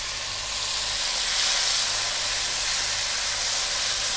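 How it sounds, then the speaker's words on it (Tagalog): Garlic, ginger, onion and tomato sauté in a hot pan with a steady, bright sizzling hiss that swells slightly midway and holds evenly throughout, close and alone without any voices. "Gigisahin ko lang siguro siya ng mga isang minuto bago tayo pumunta sa ating next step"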